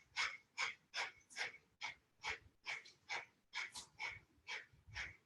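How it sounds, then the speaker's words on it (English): Rapid, rhythmic Kundalini yoga breath of fire: short, forceful nasal exhales about three per second, close and fairly soft, with nothing else in the background. "Breath of fire the whole time."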